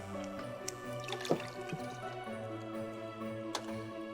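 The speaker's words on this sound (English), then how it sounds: "we're gonna take it out of the brine. We'll put it into this roasting pan so we don't make a mess." A large brined turkey lifted from its brine into a roasting pan gives soft wet drips, squishes and splashes, with a couple of sharper sloshes, fairly quiet and close, without speech.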